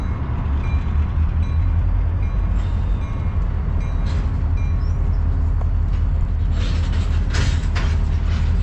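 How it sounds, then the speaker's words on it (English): A Z train rumbles past continuously, a loud, steady low roar of rolling wagons and rail noise with scattered metallic squeals and clanks growing toward the end, no talk. "Z train just blasted through this morning."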